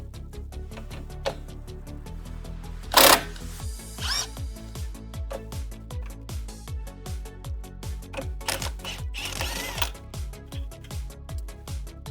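A ratcheting wrench loosens the steering knuckle nut on a Camaro, giving a close, steady train of rapid clicks in repeated strokes, broken by a brief metallic clatter and a few knocks.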